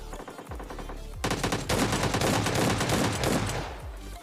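Gunfire in PUBG Lite, with an S12 shotgun and another gun in hand, starts as a few shots and then becomes a rapid, sustained volley of loud repeated blasts.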